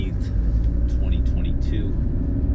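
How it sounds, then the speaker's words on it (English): A 1985 Mercedes-Benz 300SD turbodiesel drives on the road with a constant loud low rumble, and faint high chirps sit above the engine noise. "Let's get this car out on the road."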